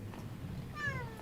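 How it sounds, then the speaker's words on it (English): A cat gives one short, quiet meow that rises then falls in pitch, heard indoors over a low background hum. "That's the cat."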